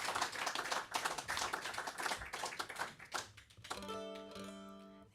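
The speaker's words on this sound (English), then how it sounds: "Let's give her a round of applause." An audience applauds a performer at a Friday night concert, with a dense patter of many hands clapping that thins out partway through. Sustained musical tones begin as the clapping fades.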